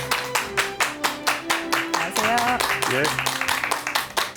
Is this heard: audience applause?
yes